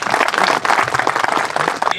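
An audience at the Ellora Seeds crop show applauds loudly for the chief guest arriving on stage, a dense steady wash of clapping that runs the full length with faint voices mixed in.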